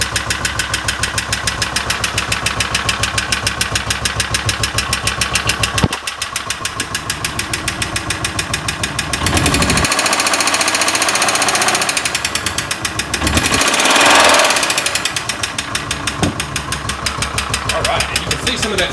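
A Kawasaki Mule 500 utility vehicle's FE290D engine idles with a loud, rapid, steady chugging, then revs up briefly twice before settling back, close up throughout.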